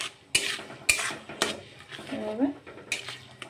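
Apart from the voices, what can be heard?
sautéing spices in a pan for dum aloo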